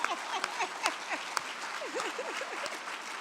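Applause from a luncheon audience: steady, broadband clapping at moderate distance with a few sharper individual claps, plus faint voices or whistles mixed in throughout.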